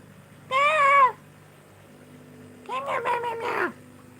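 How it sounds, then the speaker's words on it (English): A cat meowing from a rooftop outdoors, one drawn-out clear meow followed after a pause by a longer wavering, stuttering meow, moderately close over a low steady hum. "It's a cat right there on the roof."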